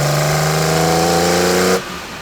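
A Porsche 964 reimagined by Singer revs its engine in a sustained rising drone with a rich harmonic buzz, loud and close, before the note drops away abruptly as the throttle closes.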